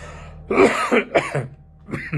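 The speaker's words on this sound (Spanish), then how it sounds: "Está regresando la tos otra vez." A run of harsh, close coughs, several in quick succession, then a short pause and another couple of coughs.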